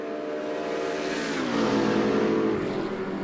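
A Corvette race car holds full throttle along a long embankment section of a racing game track, its engine note loud and close, climbing in pitch then shifting gear and rising again.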